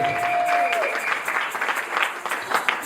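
Applause from a church congregation, a broad, steady patter of many hands clapping throughout, fairly loud and close, with no speech over it.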